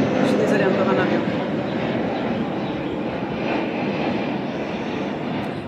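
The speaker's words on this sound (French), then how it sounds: "je suis désolée, encore un avion." A fixed-wing airplane passes overhead as a steady, broad engine roar that holds loud and even from start to finish, with no talk over it.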